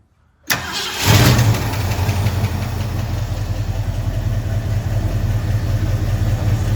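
A swapped car engine cranks and catches after a short silence, then settles into a loud, steady, close idle with an even low rumble.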